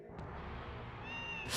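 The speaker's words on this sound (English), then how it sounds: "There is an effect that if you touch walls, you make cat noises." A short synthetic cat meow in the video game Baroque, triggered by touching walls. A faint mew chirps early, then a high tone rises near the end over a steady low game hum.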